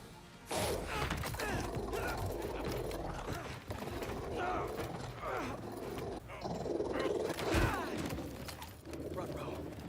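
A robot dog in the Spider-Man 2 video game growls and snarls amid mechanical whirring and clanking, layered with crashes and game action.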